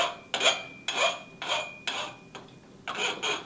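A hand file is drawn lightly around the cut edge of a metal axle to chamfer it, making six rhythmic, raspy strokes about half a second apart, close and clear with no talk.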